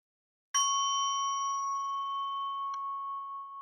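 A single clear bell strikes and rings out with a long, steady sustained tone, a faint second tap partway through, no voices.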